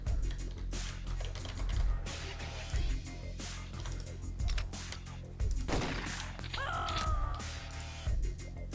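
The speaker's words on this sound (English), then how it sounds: "these numbers, you can press the numbers on your keyboard" Number keys tapped on a computer keyboard, giving quick, close clicks that are partly masked by loud game effects, including bird caws and bursts of gunfire.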